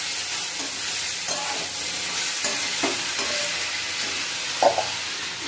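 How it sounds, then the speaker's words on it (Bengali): Chopped sorrel spinach stirred in a hot pan, a steady hiss of frying broken by several spoon scrapes and one sharper clink near the end. "সেটাকে ভালো করে নেড়ে মিশিয়ে নিতে হবে"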